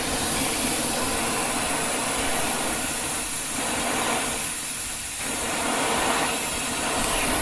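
A gas torch heating the tip of a metal piece in a shed, giving off a steady, loud broadband hiss that runs unbroken throughout.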